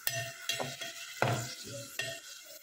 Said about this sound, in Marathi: इथे 2 चम्मच तेलामध्ये मी 2 मोठे कांदे ॲड करून घेतलेले आहेत